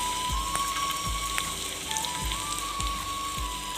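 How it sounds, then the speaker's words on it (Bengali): Sliced garlic and onion sizzling in hot oil in a pan, a steady close hiss with a soft rain-like crackle and faint periodic low thumps underneath, no talking. "তখন আমি এই স্লাইস রসুনগুলো দিয়ে দিলাম। ওরা স্লাইস করা পেঁয়াজটাও দিয়ে দিচ্ছি।"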